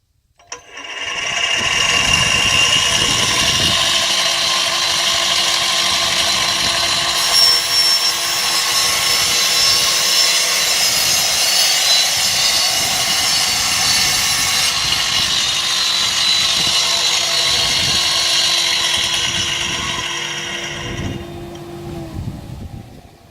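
A woodworking saw runs loudly and continuously with an FM300 chip extractor vacuum roaring alongside, the whine wavering slightly as material is cut, then winding down at the end.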